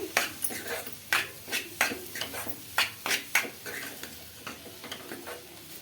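A utensil mixes Maggi masala into food in a pan on the stove, making repeated rhythmic scrapes and taps against the pan, close and moderately loud, with no talking.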